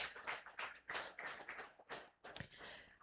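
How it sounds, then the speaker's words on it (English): Scattered, uneven clapping from a small audience at a business standards launch, honoring the commissioner; faint and irregular bursts with short gaps between them. "Let's clap for our commissioner."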